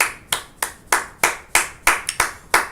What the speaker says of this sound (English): A round of applause, Bonang.